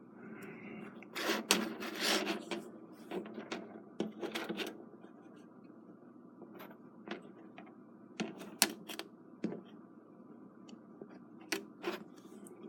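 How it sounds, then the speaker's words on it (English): Small metal calipers are handled and closed on a watch mainspring, giving faint, sparse clicks and light scraping taps spread across a quiet background. "So now we'll take a measurement with the calipers here."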